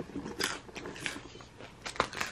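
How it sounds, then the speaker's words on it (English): Someone crunches on Japanese cheese puffs close to the mic, with several sharp, crisp bites and crackles spaced irregularly between quieter chewing. "And this is what I'm crunching on, girl. I don't even know what it is. Cheese puffs from Japan."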